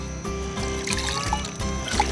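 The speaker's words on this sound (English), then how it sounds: "notice when we dip this lettuce, this is only our primary cleaning, what comes out from between the leaves" Lettuce dipped and sloshed in a basin of water during a first cleaning in a garden setting, with close trickling and splashing that stays steady, plus a few brief drips.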